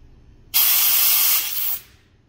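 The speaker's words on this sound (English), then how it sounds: "So we're going to use some compressed air from the other side. and shoot that to get the nut to move." A single loud, sustained hiss of compressed air lasting just over a second, blown through a CNC wasteboard to dislodge a stuck nut, cutting off abruptly with a brief tail.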